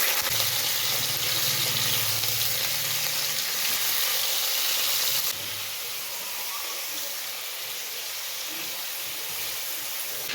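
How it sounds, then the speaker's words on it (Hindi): Chicken pieces dropped into hot oil for a meat and bitter gourd curry give a steady, loud sizzling hiss that fills the whole stretch, easing slightly partway through. "ये मैं डाल दूँगी चिकन।"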